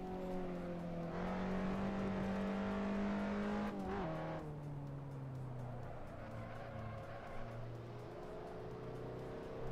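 A race car engine in the Assetto Corsa sim drones steadily at high revs, pitch climbing through a gear, dropping sharply at a shift, then holding a lower sustained tone, continuous and fairly quiet.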